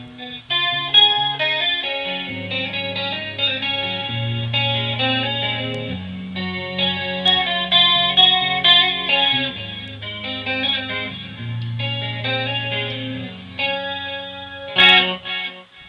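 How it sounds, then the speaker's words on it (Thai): Continuous electric guitar playing through a Line 6 Pocket POD Express runs with a delay effect, as a busy stream of picked notes and chords over a sustained bass line, with no talking. "ใส่ดีเลย์เข้าไปนิดนึงนะฮะกดแท็บหน่อย"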